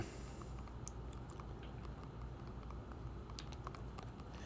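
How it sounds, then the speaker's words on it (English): Typing on a computer keyboard, a quick irregular run of soft key clicks, close but quiet, over a low steady background hum. "If I could type."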